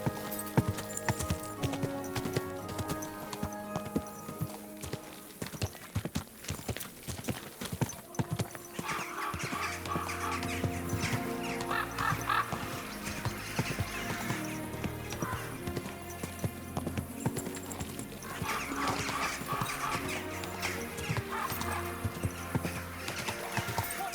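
Horse hooves clip-clop steadily over a continuous musical score in Kingdom Come: Deliverance II, with a short whinny in the mix, moderately loud throughout.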